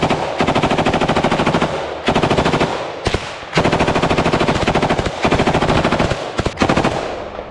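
Bursts of automatic machine-gun fire during a firefight in the Russian-Ukrainian war, loud and close, coming in several long rapid-fire volleys separated by brief pauses and a few single shots.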